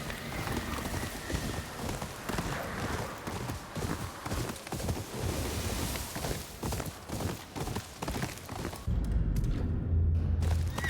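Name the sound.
horse hooves clip-clopping in Ghost of Yotei video game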